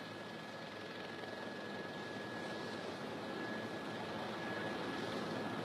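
An aircraft lands on a runway with smoke pouring from its landing gear and tires burning out, heard as a steady, distant engine roar that holds at an even level throughout.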